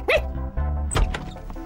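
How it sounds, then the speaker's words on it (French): A cartoon dog lets out a quick, close bark-like yelp and a few short vocal bursts, loud and brief over a low steady background. "C'est Kiwi, le chien de Odd."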